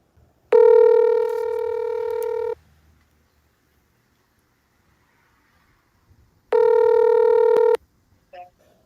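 Two long steady electronic tones sound close and clear on a mobile phone while a call is placed, the first lasting about two seconds and the second a bit shorter, separated by silence.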